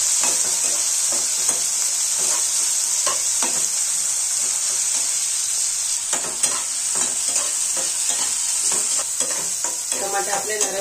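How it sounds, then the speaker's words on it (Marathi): Tomatoes fry in hot oil with onion for a dolkyachi bhaji curry, giving a constant bright sizzle over repeated scraping strokes of a spatula stirring the pan at close range. "टमाटा पण टाकून घेऊया। टमाटा पण आपण तेलामध्ये चांगलं नरम होऊ देऊ।"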